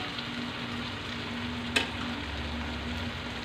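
Fish frying in a pan for a home-cooked meal, a steady close sizzle throughout with one brief sharp clink of a utensil midway.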